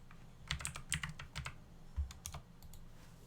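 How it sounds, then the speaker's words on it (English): Fingers tap quickly on a computer keyboard, a close, quiet run of uneven keystrokes in short bursts with a brief pause near the end. "Apparently I can't type tonight."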